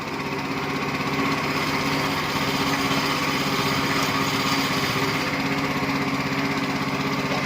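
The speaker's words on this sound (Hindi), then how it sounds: "देखो ये पावर टिलर अभी चालू है" A power tiller engine runs steadily at idle, a loud, continuous chugging drone with a fast even throb that stays constant throughout.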